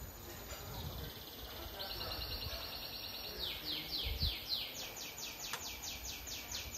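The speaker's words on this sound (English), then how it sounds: "Being serenaded by a bird." A bird sings at a bar in Benidorm, a string of bright repeated chirps and descending trills that grow more insistent, heard over low background chatter and bar ambience.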